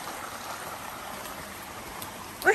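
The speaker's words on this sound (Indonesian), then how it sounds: "ini airnya netes-netes dari atas. Ini bukan hujan sih. Dari atas batunya." Water drips steadily from the rocks above on a mountain trail, a continuous patter like light rain, with a brighter splash near the end.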